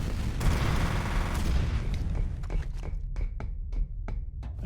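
A rocket launcher fired in F.E.A.R. gives a heavy, rumbling blast and booming roar, followed by a scatter of sharp, fading impacts and debris clatter, with no talking.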